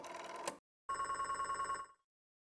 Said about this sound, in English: old rotary phone from the sound of it